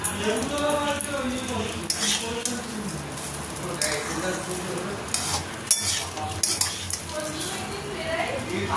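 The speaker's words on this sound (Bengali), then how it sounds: "একটুখানি কড়াই ভেজে নিচ্ছি" Food sizzles in a hot pan while a utensil scrapes and stirs, with occasional metallic clinks over a steady frying hiss.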